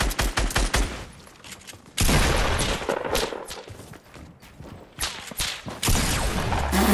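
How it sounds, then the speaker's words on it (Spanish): Loud shotgun blasts and rapid gunfire in the Fortnite Battle Royale video game, several sharp bursts in quick succession with footsteps and scraping between them and no talking. "¡Qué escopetazo se acaba de llevar!"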